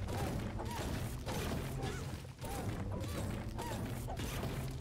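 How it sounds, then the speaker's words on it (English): Squeaky pickaxe in Fortnite Battle Royale, swung repeatedly in a steady rhythm, each hit giving a short creaky squeak over dense game noise and thuds, loud throughout. "I love that little squeaky noise."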